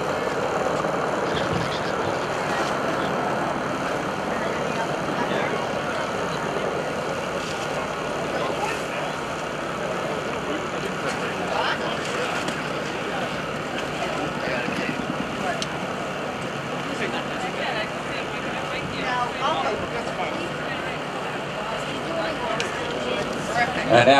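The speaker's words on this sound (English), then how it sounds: "You can hear that Huey behind you as they are communicating with the other" A UH-1 Huey helicopter flies during a Marine Air-Ground Task Force demonstration at the 2012 Joint Base McGuire-Dix-Lakehurst open house airshow. Its steady engine and rotor drone continues throughout, with a voice talking over it.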